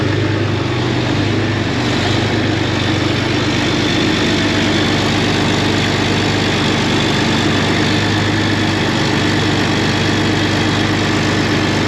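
A tractor engine idles steadily, a loud, constant low rumble with vibration that holds without a break, and no voices are heard over it.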